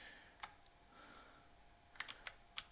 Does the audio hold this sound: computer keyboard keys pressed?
yes